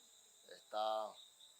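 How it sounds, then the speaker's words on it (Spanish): A single short, buzzing frog croak rises briefly out of a quiet background with a faint steady high whine from a distant chainsaw, close and distinct, in a Panamanian protected area. "Ahí pueden escuchar las ranitas cantando. Esas son ranas."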